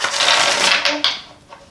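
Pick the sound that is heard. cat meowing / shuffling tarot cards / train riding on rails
shuffling tarot cards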